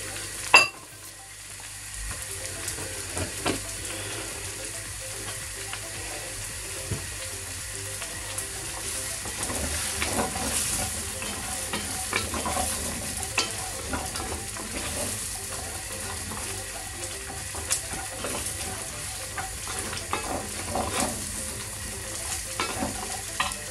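Vegetables fry in a pot for a steak cobbler, giving a constant close sizzle with occasional stirring scrapes and clinks throughout.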